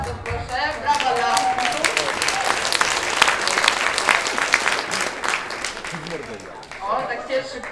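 Audience applause fills a talk on body language, dense steady clapping from a crowd that swells and then thins toward the end, with a few voices under it.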